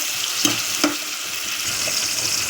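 Tomatoes sautéing in oil with salt make a steady close sizzle, broken by a few spoon-stirring scrapes, and no voice.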